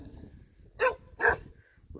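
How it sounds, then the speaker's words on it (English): Two sharp dog barks ring out close by, spaced about half a second apart, over a quiet low background rumble, with the start of a third at the very end. "why are they barking at me?"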